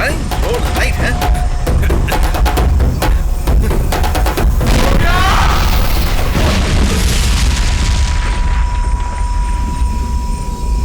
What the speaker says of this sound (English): It's a big explosion.